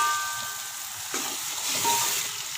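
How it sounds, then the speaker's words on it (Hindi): Beef being added to ginger-garlic paste frying in a pot for degi beef biryani, giving a steady close hiss of sizzling oil with a brief burst of stirring and spluttering midway. "अदरक लहसुन का पेस्ट भून चुका है, मैं इसमें ऐड करूँगी बीफ।"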